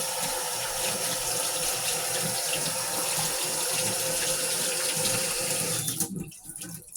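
Hands are washed under a kitchen sink tap, the water running in a steady close splashing rush that stops near the end, followed by a few quieter drips and handling sounds.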